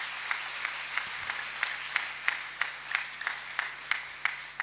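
An audience at an Independence Day address by a Jain monk on 15 August 2021 claps together in a steady rhythmic beat, each clap evenly spaced, faint and somewhat distant, with no speech.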